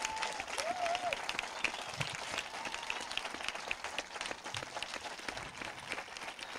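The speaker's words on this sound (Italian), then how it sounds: "se ci fate un applauso, a tutte quante." An audience in the stands at an Italian talk event bursts into sustained applause, a dense, even crackle of many hands that holds steady at a moderate level for several seconds.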